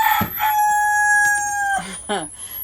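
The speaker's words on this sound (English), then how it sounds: "That rooster always in my background." A rooster crows once in a long, clear call nearby during outdoor cooking of Jamaican curry crab, followed by a few short clucking sounds.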